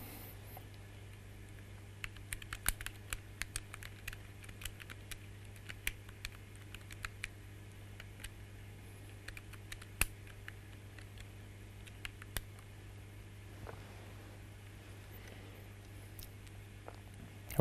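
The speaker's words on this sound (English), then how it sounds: "if you want to see my thumbs typing" Thumbs typing on the small keyboard of a Pyra handheld prototype computer, giving a steady patter of light, close plastic key clicks over a constant low hum, with no talking.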